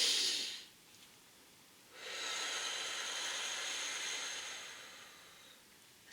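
Slow, deep breaths during a breathing exercise: a short exhale fades out, then after a pause a long, steady airy breath lasts about three seconds before tapering, heard close and alone.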